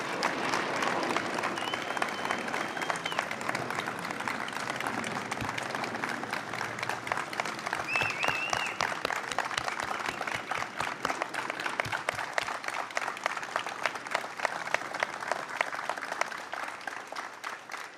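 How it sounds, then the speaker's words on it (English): An audience at a bill-signing ceremony applauds steadily for about eighteen seconds, a dense, even patter of many hands clapping in a hall at moderate distance with no talk over it. "let's give her a round of applause, Sandra Lee."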